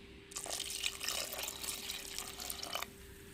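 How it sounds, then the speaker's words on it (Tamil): Water pours from a tap into an avial curry mixture of masala, two tomatoes and curry leaves, a steady near splash running about two and a half seconds before stopping. "தேவையான தண்ணி ஊற்றிக்கிறோம்."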